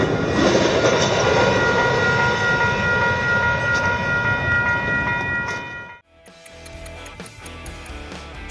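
A long train with many wagons passes close by, a loud continuous rumble with steady whining tones that cuts off abruptly near the end into a lighter, rattling clatter.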